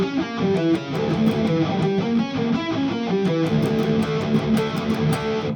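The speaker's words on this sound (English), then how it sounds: "So if I do something like this for a diminished arpeggio" A distorted electric guitar in drop D tuning plays a quick diminished arpeggio high on the neck, the notes running continuously and loudly over the low drone for the whole stretch, with no talking.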